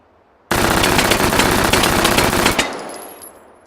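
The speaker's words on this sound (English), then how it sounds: "So, that's a machine pistol." A machine pistol is fired from the hip in one loud, continuous automatic burst of about two seconds, and the echo decays after it stops.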